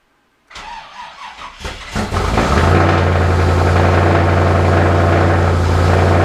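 A third-generation Chevrolet Camaro running on 90-octane non-ethanol pump gas cranks over with several uneven starter bursts, catches, and settles into a loud, steady, close-up idle.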